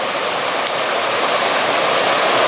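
Close, constant rush of a little mountain creek pouring over stones on the Middle Prong Trail in Smoky Mountain National Park, a dense hiss with no voices.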